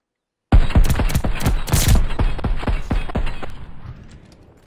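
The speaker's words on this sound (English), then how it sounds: "Is that an LMG?" A light machine gun in Call of Duty Vanguard opens up after a short silence, a rapid, loud string of close shots in steady rhythm that gradually tapers off into echoing decay.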